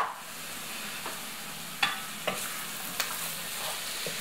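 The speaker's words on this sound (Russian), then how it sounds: "Пусть это обжаривается." Chopped pork brisket sizzles steadily in a pan for soup, a continuous close hiss broken by a few sharp clicks and taps of stirring.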